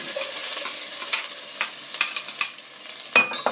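Chopped onions fry in a pot for jollof rice, giving a bright crackling sizzle punctuated by repeated stirring clacks and scrapes at an uneven rhythm, close and alone.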